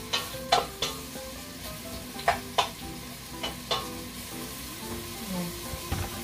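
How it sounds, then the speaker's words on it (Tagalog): Onions sautéing in a pan give a steady close sizzle, broken by several sharp scrapes and clacks of a utensil stirring them at irregular intervals, with no talking. "Isa-gisa na tayo ng sibuyas"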